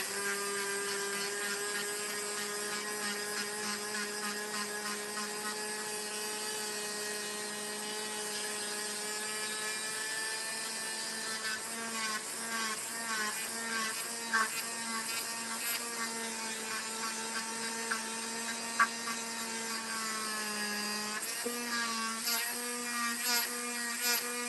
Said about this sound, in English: You're sanding metal and I'm sanding wood.